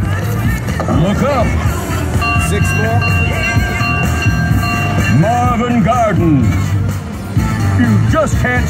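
The Monopoly Jackpot Station slot machine plays its train sound effect: rolling rail clatter with horn-like tones. Casino crowd noise and voices run underneath.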